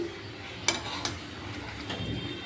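Stirring shukto, a Bengali mixed-vegetable dish with ghee, in a metal pan: two sharp spoon clinks against the pan over a soft, steady scraping and low cooking hiss, close and fairly quiet, with no talking.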